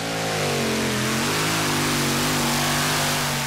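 A modified tractor at a 0.95-ton EC tractor pulling event in 2008, powered by a Chevy 572 engine with a small blower, gives a loud, sustained roaring engine note that rises in pitch as it revs and stays at full power.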